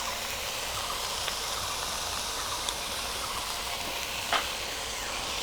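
Cashew paste sautés in a pan with mustard paste, producing a steady, close sizzle and hiss throughout, with a few faint utensil taps.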